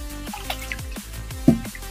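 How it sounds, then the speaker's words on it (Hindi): Water poured little by little onto a document file, giving soft drips and small splashes with a brief louder splash near the end, close and alone. "देखिए, हम डाल रहे हैं इसमें थोड़ा थोड़ा पानी।"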